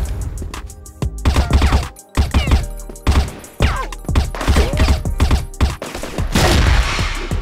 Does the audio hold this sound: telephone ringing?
no